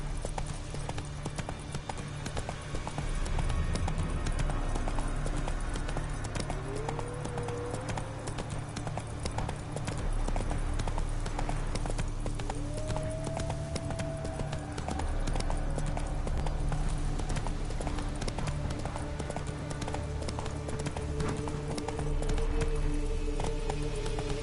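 Roach, the horse in The Witcher 3, gallops with a steady rhythmic clip-clop of hooves that runs throughout. Game music and faint ambient tones play beneath the hoofbeats.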